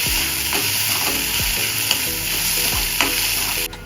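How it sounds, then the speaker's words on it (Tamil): Ginger-garlic paste frying hard in a hot pan, a loud continuous sizzle with a few sharp stirring scrapes and clicks along the way. "இஞ்சி பூண்டு விழுது போடுறேன்."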